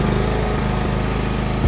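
A John Deere lawnmower engine runs steadily at close range after a manual start, a loud, even mechanical drone with no talking.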